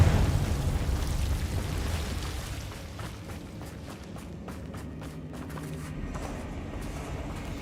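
Confringo blasting curse going off in the Hogwarts Legacy video game, a loud booming burst at the start that rolls into a dense, rumbling spell-combat din with scattered sharp crackles and impacts.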